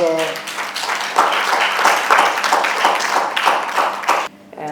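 Applause for a chief guest at a Mother's Day celebration held by a mothers' milk bank, a sustained clatter of clapping from a hall audience that cuts off abruptly near the end.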